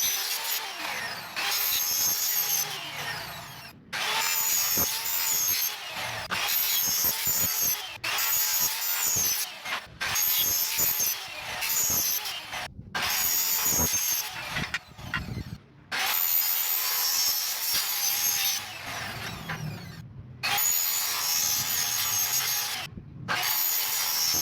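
Aluminium frame pieces for a pivot window sash being cut with a power saw, loud repeated whining cuts of a few seconds each separated by short pauses, close up with no talking.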